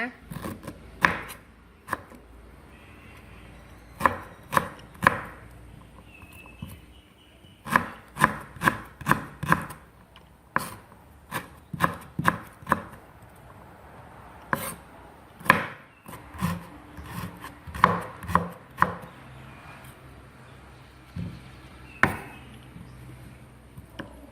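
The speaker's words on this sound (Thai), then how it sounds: "หลังจากปอกเรียบร้อยแล้ว เราก็หั่นเป็นชิ้นเล็กๆนะคะ" A knife chops sweet potato on a cutting board in irregular bursts of quick, crisp cuts, pausing briefly between runs.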